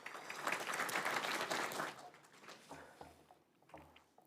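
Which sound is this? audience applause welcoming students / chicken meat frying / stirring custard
audience applause welcoming students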